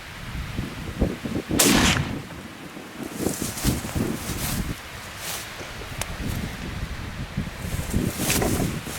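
A CVA muzzleloader rifle fires at a mule deer buck outdoors, a single sharp loud crack followed by wind buffeting the microphone and scattered field noise.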